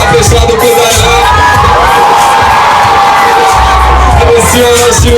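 Loud crowd at a fifteenth birthday party shouting and cheering together, a dense wall of yells and whoops sustained at full volume for the whole stretch, close and overwhelming.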